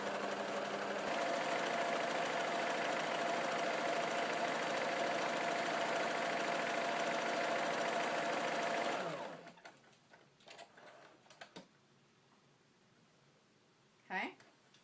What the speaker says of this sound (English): Just going to go over those edges in a zigzag stitch.